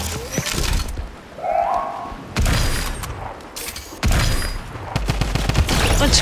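A drum gun fires in the Fortnite video game, with bursts of rapid gunfire and booming impacts separated by short quieter gaps, loud and close.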